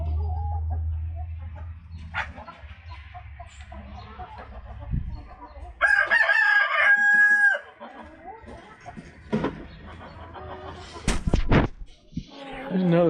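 Agitated backyard chickens cluck in scattered bursts, and a rooster lets out one loud, drawn-out crow midway; a voice briefly joins the flock noise.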